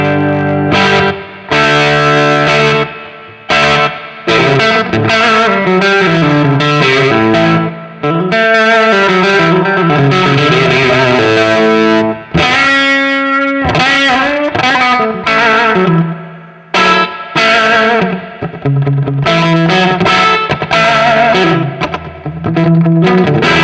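Electric guitar through a TC Electronic Line Driver overdrive pedal with its boost function engaged, played into an otherwise clean amp: loud, sustained distorted chords and riffs continuing for the whole passage with brief gaps, no talking.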